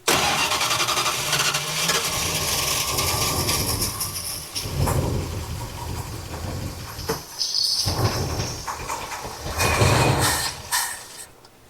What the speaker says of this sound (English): Maybe we can get it cranked long enough to get it pumping fuel